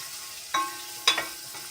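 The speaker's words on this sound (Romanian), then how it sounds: "Acum dinstuim puțin ceapa. Nu dinstuim mult, pun și morcovii." Onion and carrots cooking in a pan make a faint, low hiss, broken by two sharp metallic clinks of a utensil against the pan, with no one speaking.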